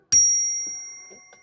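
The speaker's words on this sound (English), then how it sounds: "I'm going to ring this bell in 3, 2, 1." One bright, clear ding of a small bell rings out and slowly fades away, with faint knocks behind it.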